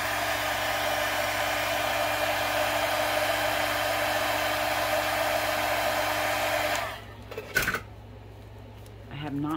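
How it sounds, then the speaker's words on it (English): A heat gun blows a steady, loud rush of hot air to melt a stuck lid, running close and unbroken for about seven seconds before cutting off, followed by a few soft knocks and handling sounds. "Let me see if I can melt it with my heat gun."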